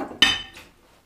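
Dishes and cutlery clink while washing up: one sharp ringing knock of crockery or metal, followed by a fainter second clink, both nearby and alone without talk.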